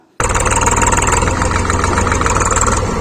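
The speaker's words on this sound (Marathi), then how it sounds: "मग कसा तरी ट्रॅक्टर खड्ड्यातून बाहेर निघाला." A tractor engine suddenly starts loud and close after a moment of quiet, then chugs steadily with a throbbing, rhythmic idle.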